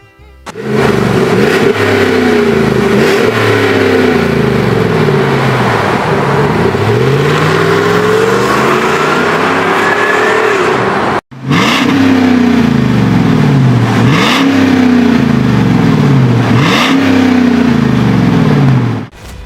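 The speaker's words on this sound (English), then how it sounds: "Aggressive exhaust note, low cabin drone. Let's fire it up." A 5.3 V8 engine in a 2015-2020 Chevrolet Suburban revs loud and close through a stainless exhaust, rising and falling in repeated surges, with a brief cut before the revving resumes.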